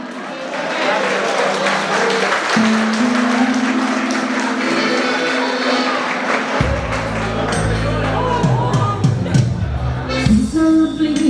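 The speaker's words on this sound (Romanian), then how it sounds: "Haideți să-i aplaudăm!" Wedding guests applaud at a live reception in Hateg, clapping running under loud band music with sustained keyboard tones and singing throughout.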